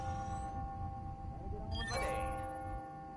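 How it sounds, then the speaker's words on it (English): Clock bells ringing on the hour in the Spider-Man: Miles Morales video game, a soft bright chime rising midway over a quiet steady background hum. "Ringing on the hour."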